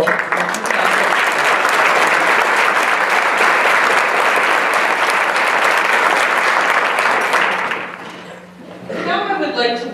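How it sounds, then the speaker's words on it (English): Sustained applause from a luncheon audience, loud and dense for about eight seconds before tapering off, followed by a few voices as the room settles. "Let's give these organizations a round of applause for taking a lead role."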